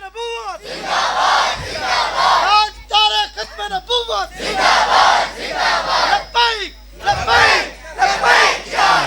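A large crowd at a religious gathering chants a devotional slogan in loud, rhythmic bursts of massed voices, each call rising and breaking off, with short pauses between repetitions.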